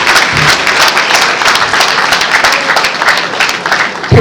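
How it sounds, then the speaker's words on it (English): An audience at a university convocation ceremony applauds Professor Falola with dense, steady clapping that fills the hall at even loudness throughout, without a pause. "Please, let's give him a round of applause."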